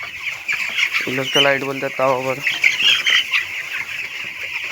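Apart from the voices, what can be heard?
chickens clucking on a poultry farm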